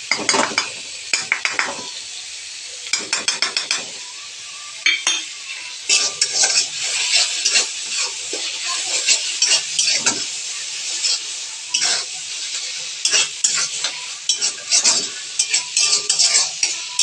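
Ginger paste sizzles and fries in a pan for a home-style chicken kurma, with a spoon repeatedly scraping and clinking against the pan in irregular stirring bursts, close and clear.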